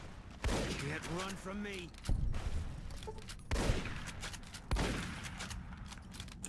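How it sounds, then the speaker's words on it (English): A hunting shotgun firing in Fallout New Vegas, four heavy booming blasts spaced about a second apart, with game sound effects and a voice talking over the first shot. "I love this hunting shotgun so much."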